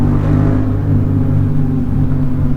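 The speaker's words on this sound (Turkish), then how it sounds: "benim motorun sesi daha fazla gibi geliyor şu an bana" A Yamaha MT-07 motorcycle engine riding through a tunnel, a loud, steady, throbbing drone with strong low harmonics that holds constant throughout.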